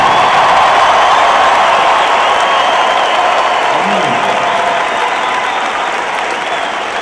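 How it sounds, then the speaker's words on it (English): Large rally crowd in Phoenix in 2008 giving a huge round of applause, a loud, dense, continuous roar of clapping and cheering that holds steady and fades only slightly over several seconds. "Please give Caroline Kennedy a huge round of applause"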